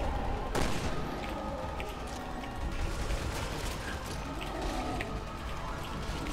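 Gunfire in Resident Evil 6 on a rooftop, dense rapid mechanical clatter of shots and weapon noise with one sharp crack near the start, steady and moderately loud, without talk.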